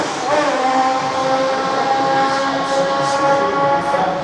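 A Formula 1 car at the Melbourne Grand Prix screams past, a loud high-pitched engine whine heard from the general admission area, rising and shifting in pitch as it goes by, with no talking.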